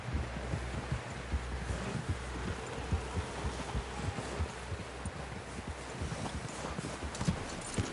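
Horse hooves clip-clop steadily and close by in a rhythmic patter, with rustling and light wind noise around them and no voices.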